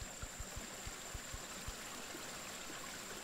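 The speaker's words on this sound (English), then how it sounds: "I hear water." Flowing water in the survival video game Bug Out Apocalypse, a steady faint stream-like wash with a run of soft low thumps near the start, no talk over it.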